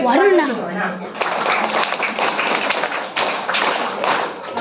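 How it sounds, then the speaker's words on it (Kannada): Enthusiastic audience applause greets the guests at a school Children's Day celebration, a dense, sustained wash of many hands clapping that swells after a brief spoken announcement and continues steadily throughout. "ಎಲ್ಲಾ ಅತಿಥಿಗಳನ್ನು ಜೋರಾದ ಚಪ್ಪಾಳೆಯೊಂದಿಗೆ"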